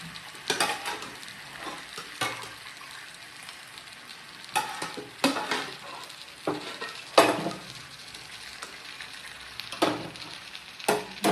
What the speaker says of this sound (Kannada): ಈಗ ಮಟನ್ ಎಲ್ಲ ಈ ಫ್ರೈಗೆ ಮಿಕ್ಸ್ ಮಾಡ್ಕೊಳ್ತೀನಿ.